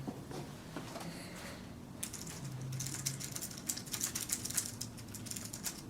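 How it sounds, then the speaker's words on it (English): Heavy typing on a keyboard at an S2S sit-stand workstation, a steady close clatter of keystrokes that grows busier and sharper halfway through, with faint mechanical rattling underneath. "both when I'm typing in a heavier typing mode and compared to a softer typing mode"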